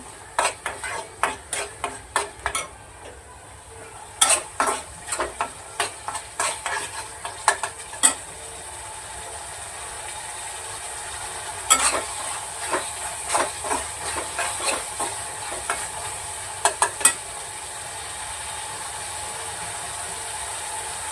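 Vegetable masala roasts in a pan while a spoon stirs and scrapes it in repeated sharp strokes, clustered bursts of metallic scraping over a steady hiss of frying oil, with a quieter pause midway and no voices.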